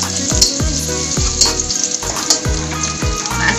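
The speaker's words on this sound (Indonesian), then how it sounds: "Ayo lanjut kita cemplungin bawang merahnya." Shallots sauté in a hot frying pan that is being shaken, giving a loud, steady oily sizzle with rhythmic scraping and clanking from the pan.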